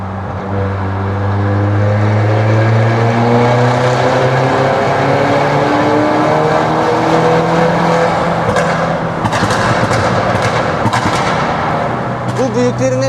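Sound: modified car exhaust revving

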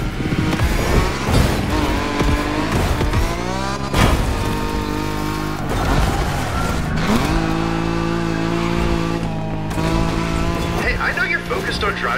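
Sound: Nismo car accelerating in The Crew Motorfest video game

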